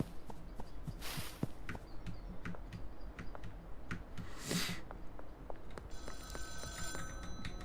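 Payphone ringing in the video game Schedule 1, repeated bell-like trills at a steady pace over a busy ambient background with faint clicks and footsteps.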